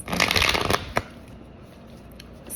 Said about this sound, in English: I am not shuffling my cards correctly.